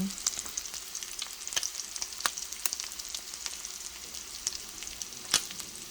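Beef steak sizzles in a pan on a home stove, a steady bright frying hiss with scattered sharp pops and crackles throughout and no talking.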